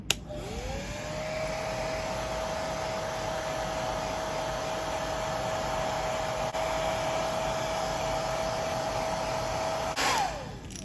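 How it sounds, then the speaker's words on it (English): A hair dryer drying paint on a fishing lure starts up and blows with a steady, even whine and rushing air for about ten seconds, then shuts off with a quick click. "hit it with the hair dryer very lightly."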